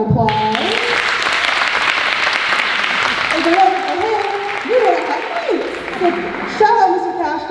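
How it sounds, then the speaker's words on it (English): Sustained audience applause fills a show choir cabaret, broad steady clapping throughout with a few brief vocal whoops near the end. "let's give him a round of applause."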